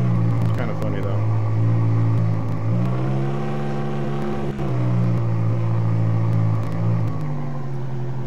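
A car drives in the Tremors video game, a loud, continuous engine rumble that rises and falls in pitch as it accelerates and eases off.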